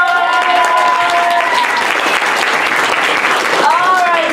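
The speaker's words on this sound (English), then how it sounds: "Give her a big round of applause." An audience claps warmly for a teacher at a school Revolutionary War program, a loud, dense burst of applause with some voices and whoops rising over it.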